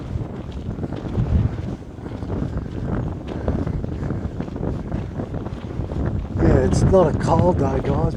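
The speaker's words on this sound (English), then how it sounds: "but it's a very blowy day" Strong gusts on a blowy day by Port Phillip Bay buffet the microphone with low, uneven rumbling bursts. Someone talks casually throughout.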